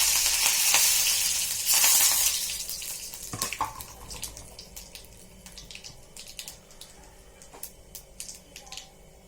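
Cumin seeds and curry leaves hitting hot oil for masala potatoes, a loud burst of hissing sizzle that settles into crackling pops and spits, close and unaccompanied by speech.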